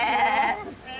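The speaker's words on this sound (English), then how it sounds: "Sheep are herbivores and are representative animals that do not fight and live in groups." A sheep lets out a single loud, quavering bleat close by that trails off after about half a second, heard alone without voices.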